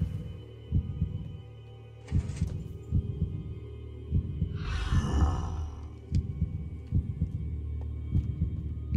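A low, steady heartbeat thumps in regular double pulses in the video game Decked Out 2, over a constant hum, with a brief high rushing swell partway through.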